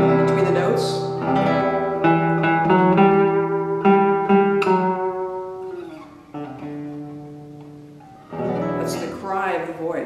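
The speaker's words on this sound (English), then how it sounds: "that little portamento there between the notes" Classical guitar phrase with notes joined by smooth portamento slides, the pitch gliding audibly between sustained, ringing tones in a lyrical melody, played close and clear with no talking.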